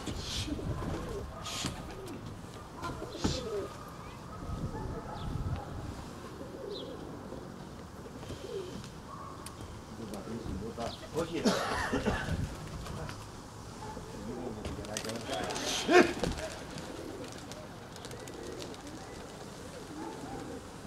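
Pigeons coo softly and intermittently at a distance, their low calls faint under people talking nearby.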